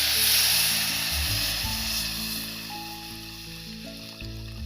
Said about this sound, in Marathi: असे छान पावते परतून द्यायचे आणि असं आपण त्यात पाणी टाकायचे